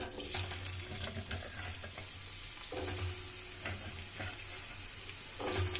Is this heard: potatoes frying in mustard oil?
yes